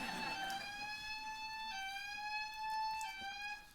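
A fire alarm in a lecture hall sounds a loud, piercing electronic tone in repeated pulses, each holding steady before breaking and restarting, ringing through the room.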